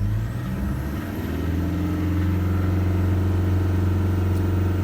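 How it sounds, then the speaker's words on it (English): Toyota 1KD-FTV diesel engine in a Prado or Hilux held at about 2800 RPM to warm up, a loud steady drone that climbs slightly early on, then settles into an even, sustained hum. "So we're just holding it on about 2800 RPM, and that'll get a bit of heat into it"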